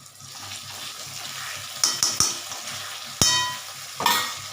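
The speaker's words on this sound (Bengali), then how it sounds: "এই এক চামচ মতো ঘি দিলাম" A spoonful of ghee added to a cauliflower curry in a pan, a soft steady sizzle broken by several sharp scraping clatters of a utensil against the pan.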